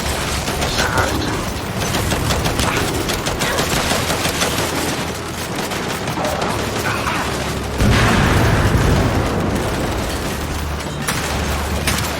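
Gun turrets in the video game Gears 5 fire continuously in dense, rapid automatic bursts, loud and close, with heavy booming impacts mixed in and a heavier volley near the end.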